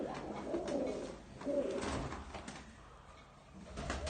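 Pigeons of various breeds kept in a loft, giving soft low cooing calls in a few repeated phrases, fairly quiet and close with no talk over them.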